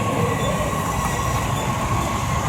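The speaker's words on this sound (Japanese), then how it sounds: "発車します列車10時47分発普通列車名古屋行きです。" A local eight-car train to Nagoya departs with a steady, loud rumble of wheels and carriages and faint metallic squeal overhead, continuous throughout with no talking.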